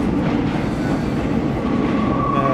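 An old Paris metro train rumbles loudly and steadily on its rails, with a faint wheel squeal rising near the end.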